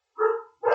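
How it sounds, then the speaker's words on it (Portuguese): Dog barks nearby, two short, loud yaps in quick succession with a brief gap between them, heard with no talking. "perdão pelo latir dos cachorros"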